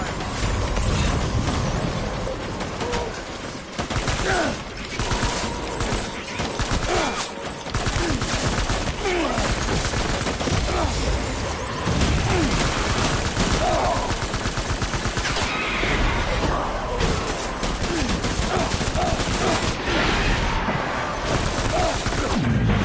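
Dense gunfire in Death Stranding rattles nonstop, overlapping rapid bursts and mechanical clatter, loud and close throughout a continuous firefight.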